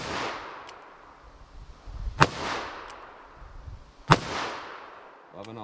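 Two sharp, loud magnum handgun shots, light .357 or .44 Magnum defensive handloads fired over a chronograph outdoors, about two seconds apart, each a close crack with a ringing decay.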